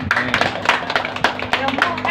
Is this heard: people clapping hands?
yes